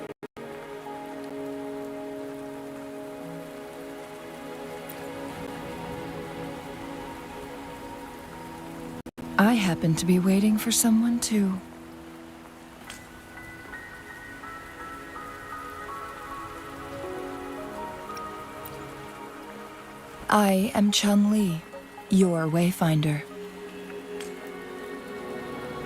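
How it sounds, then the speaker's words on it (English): Steady rain falls across a scene in the video game Wuthering Waves, a constant soft patter running the whole time beneath game music, with character voices speaking in two bursts. "Are you trapped here by the rain?"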